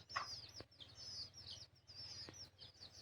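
Young chicks and village chickens on a poultry farm give repeated high, thin peeping chirps in quick overlapping bursts over a faint low hum, fairly quiet and close.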